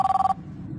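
A cell phone rings with a quick, steady pulsing trill, five or six short bursts close by, then it cuts off and leaves a low background hum.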